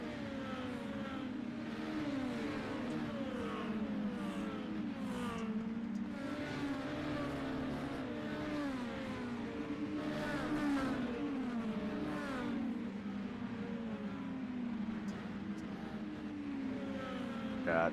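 Dirt mini stock race cars in an iRacing sim race, several engines droning and revving together at mid distance, pitch rising and falling as the cars work the laps, steady and continuous with faint commentary beneath.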